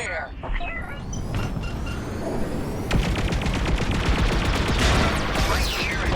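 Starfighter blaster fire in a Star Wars Squadrons space battle: dense, continuous rapid shots over engine roar, loud and close, with bursts of crackling laser fire layered through a busy combat mix.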